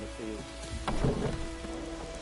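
Steady rain pours in The Witcher 3, a continuous wash of falling drops with a brief louder swell midway, while a low voice speaks briefly underneath.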